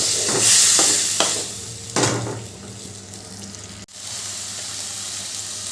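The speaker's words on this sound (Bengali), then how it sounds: "এবার ভালো করে মশলার সাথে মিশিয়ে নেবো" Fried potatoes are stirred into a sizzling spiced masala in a pan with a little water, giving a close hiss and sizzle with a few sharp scraping stirs, then a quieter steady bubbling after a brief cut.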